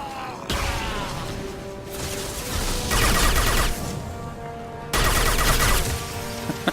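Rapid gunfire in the video game Mass Effect 2 rips out in loud sustained bursts with short gaps between them, close and dense, layered over game effects with no talking.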